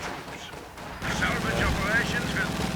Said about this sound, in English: Another half-track just getting his position to blaze through that clearing with the Quad 50 there